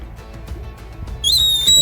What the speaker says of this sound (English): That's the stop whistle.